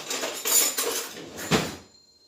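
A knife or pizza cutter scrapes and clinks against a pan or plate while a gas-oven-baked pizza is cut, giving a few short scraping strokes and one sharper clack near the end, close and fairly quiet.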